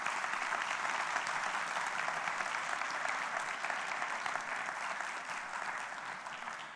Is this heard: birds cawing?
no